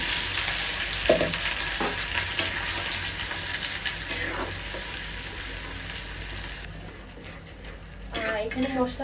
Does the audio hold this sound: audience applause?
no